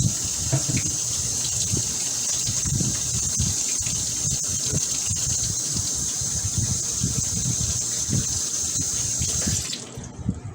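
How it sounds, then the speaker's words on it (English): Hands being washed under a running kitchen tap, water gushing steadily with splashing and rubbing, close and continuous for about ten seconds before the flow shuts off. "Wash my hands."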